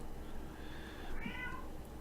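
A cat gives a single drawn-out meow that rises and falls, moderately close over a steady low background hum.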